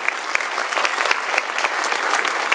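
Sustained applause from a seminar audience in Indonesia greeting introduced business directors, dense steady clapping filling the whole stretch at close range with no speech over it.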